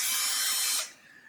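Axial SMT10 Gravedigger RC truck motor giving a high, drill-like electric whine, loud and steady for most of a second before cutting off abruptly, leaving faint low residual noise.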